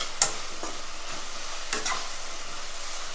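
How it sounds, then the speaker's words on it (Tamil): Green chilli and capsicum sautéing in a pan for a Tamil fish kulambu, with a soft, low sizzle beneath two brief spoon clinks from stirring; no one speaks. "இந்த பச்சை மிளகாய் கேப்சிகம் சேர்த்து ஒரு நிமிஷம் இது நல்லா வதங்கட்டும்"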